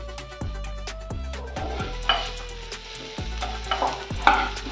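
Spiced chicken stirred in a pan as it finishes cooking for egg rolls: repeated scraping and clattering strokes with a soft sizzle, close and fairly loud, over a steady tonal background hum with no talking.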